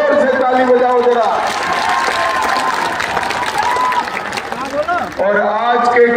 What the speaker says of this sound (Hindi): यशोदा देवी जी के लिए जोर से ताली बजाओ जरा